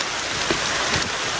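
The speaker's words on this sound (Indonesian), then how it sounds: "Ini kondisi lagi gerimis." Light drizzle falling on a rocky mountain trail, a soft dense patter of fine raindrops with a few slightly louder taps close by.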